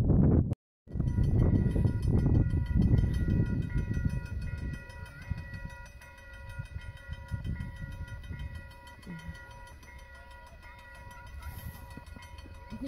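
The Polar Express 1225 steam locomotive passes with a heavy, close rumble and rail clatter that dominates the opening seconds and then fades into a softer rolling clack, with steady tonal whistle-like notes above it.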